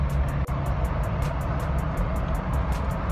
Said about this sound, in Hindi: मैं गाड़ी चला रहा हूं